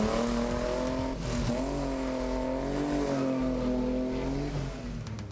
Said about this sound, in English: car spinners staging the first burnout event in close to 2 years